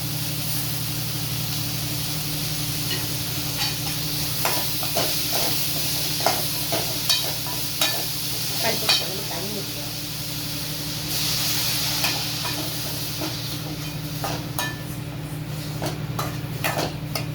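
Onions and tomato sauté in a pan, a steady close hiss of frying laced with scattered clinks and scraping stirs from a utensil, continuing without a break and with no talk.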